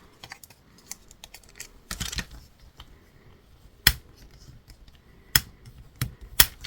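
The folds of a paper scrapbooking card are creased by hand: crisp, close clicks and snapping taps come in a scattered, irregular rhythm with a few sharper strokes, in a quiet room.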